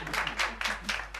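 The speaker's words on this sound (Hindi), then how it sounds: "तालियां" A small group claps together in bursts, welcoming a woman with a bouquet at a women's club gathering in a comedy sitcom scene, the claps close and fairly loud over a steady low hum.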